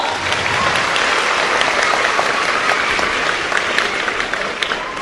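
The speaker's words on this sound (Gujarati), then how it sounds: "એમના માટે જોરદાર તાળીઓ પાડો." An audience at a Vadodara gathering gives loud, sustained applause for a state legislative assembly chief whip, with dense clapping filling the whole stretch.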